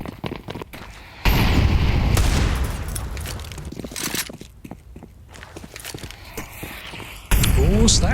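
Rapid gunfire sprayed from the short position during a professional Counter-Strike match between GamerLegion and HEROIC at IEM Kraków, loud bursts coming and going under a caster's commentary with footstep-like clatter between.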